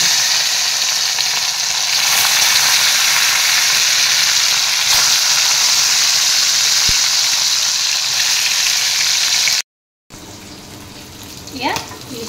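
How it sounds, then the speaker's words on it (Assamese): Fish frying in hot oil seasoned with turmeric and salt gives a loud, steady, broadband sizzle that holds for about ten seconds, breaks off abruptly, then returns quieter with a faint stir. "এয়া তেলখিনি গৰম হৈছে ইয়াতে মই অলপ হালধি গুড়ি দি দিছোঁ অলপ দি দিছোঁ নিমখ ইয়াতে এতিয়া মাছখিনি বহুৱাই দিওঁ"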